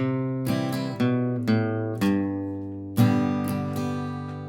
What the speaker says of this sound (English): That's what the bass walk down sounds like